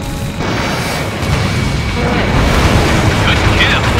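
A missile striking a building in Ace Combat Infinity, launched from an F-15S/MTD: a loud sustained roaring blast that swells and rumbles for several seconds, with a voice talking over it.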